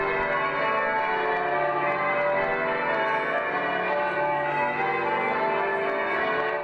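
Church bells ring changes in a dense, continuous peal, the overlapping strokes sounding loud and steady for several seconds with no voices.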